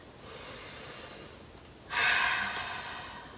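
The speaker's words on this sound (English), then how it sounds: "You're gonna start by exhaling everything out of your mouth." During a breathing exercise, a steady soft breath is followed by one forceful exhale pushed out through the mouth, close to the microphone, fading gradually with no speech.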